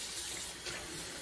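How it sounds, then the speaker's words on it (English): Tap water runs steadily into a kitchen sink, a continuous broad hiss and splash at moderate level with no speech over it. "I have the water running because I don't have an ice bath"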